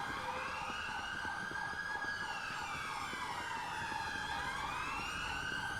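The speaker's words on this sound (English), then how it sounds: "I can hear all the other sirens going off." Police sirens wailing in a GTA 5 British police mod, several rising and falling electronic tones overlapping at a moderate distance over a low road rumble, with no talk.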